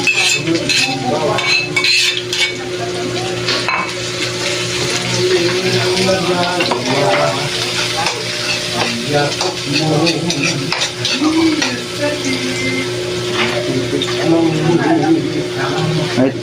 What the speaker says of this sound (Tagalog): Sunod natin ang sibuyas.